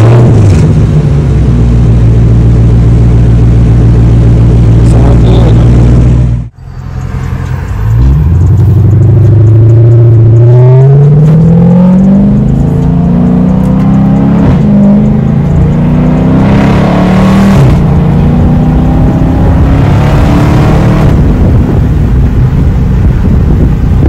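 A 2012 Dodge Charger RT 392 without mufflers idles loudly with a deep rumble, cuts out briefly, then revs repeatedly with rising and falling engine roar, very close and loud against wind noise.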